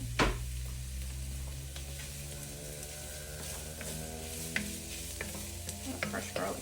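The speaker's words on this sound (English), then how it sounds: "I'm going to go ahead and add my garlic in. Stir this around, get this out of the way." Fresh garlic sizzling in the bottom of a soup pot as a spoon stirs it, a steady close fry with light scraping clinks and a low background hum.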